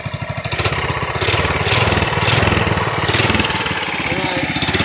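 A small go-kart engine on a Murray or Yerf-Dog kart is held at high throttle while its drive belt struggles to engage. It is loud and close, with a pulsing, buzzy drone.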